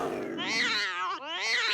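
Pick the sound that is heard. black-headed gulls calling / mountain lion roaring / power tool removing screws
mountain lion roaring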